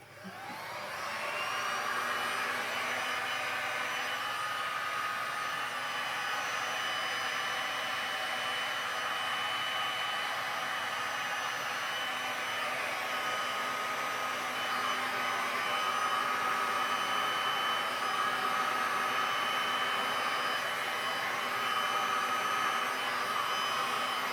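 A heat gun blows on resin poured over a large canvas, with a constant, loud whooshing hum that holds steady throughout, close by and with no speech.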